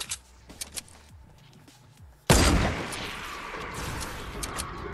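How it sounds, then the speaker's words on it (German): A few sharp distant pops, then a sudden loud blast followed by a sustained roar of gunfire-like noise, no speech. "Ich höre die ganze Zeit Schüsse"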